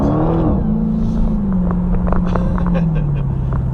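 A 2018 Dodge Hellcat Challenger V8 accelerating hard, a loud close engine note that rises sharply then holds a deep, throaty drone with a few crackles.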